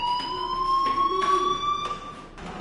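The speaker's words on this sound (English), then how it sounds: "do you hear that fire alarm?" A fire alarm rings with a steady, piercing electronic tone pulsing in short repeating bursts, loud and close, with no talk over it.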